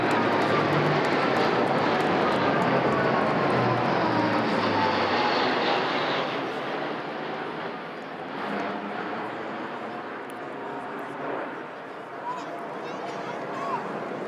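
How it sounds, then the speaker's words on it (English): A Royal Air Force A400M Atlas transport aircraft on a VE Day anniversary flypast over London makes a broad, loud turboprop roar that slowly fades, with a commentator speaking over it throughout. "an A400M Atlas from the Royal Air Force, coming down following the line of flight"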